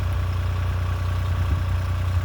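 A small Perkins diesel engine idles steadily nearby, a low even rumble with a faint hum above it and no talk.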